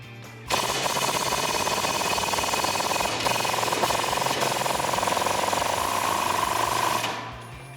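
Impact wrench with a 27mm socket loosening a strut bolt during a suspension lift install on a 2009-2013 Ford F150, a loud close continuous rattling hammer lasting about six and a half seconds before stopping.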